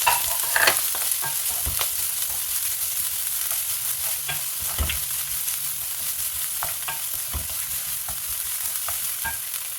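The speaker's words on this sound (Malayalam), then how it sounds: "ഒരു ചെറിയ സവാള ചെറുതാക്കിയിരുന്നത് ഒന്നോ രണ്ടോ പച്ചമുളക് ചെറുതാക്കിയിരുന്നത് ഇഞ്ചി ചെറുതാക്കി അരിഞ്ഞത് ഒന്ന് വാട്ടി കൊടുക്കാം" Chopped onion, green chili and ginger sauté in a pan with a continuous close sizzle. Spatula stirs and scrapes break in now and then.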